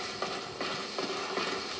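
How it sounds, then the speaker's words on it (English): Enemy footsteps follow the player through Dark Souls, about four dull, evenly paced thuds set against a steady background hum. "I hear footsteps."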